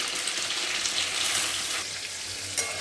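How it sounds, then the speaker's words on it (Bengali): Pointed gourd (potol) frying in a pan with fennel, a close steady sizzle and crackle of oil running continuously, with a slight scrape near the end. "পটলগুলো ভাজা হচ্ছে"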